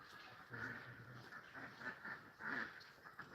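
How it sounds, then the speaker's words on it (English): Ducks quack repeatedly in a scuffling, overlapping burst outdoors, the calls coming in uneven clusters at moderate distance with no talk. "Sounds like the ducks are fighting, actually."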